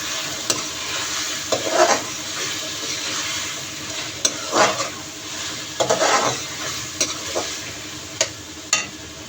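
Spices, including chilli powder, stirred into a frying pan while cooking bhindi gosht, a Pakistani okra and mutton dish: a steady sizzle runs throughout, broken by several sharp scrapes and clinks of a spoon against the pan.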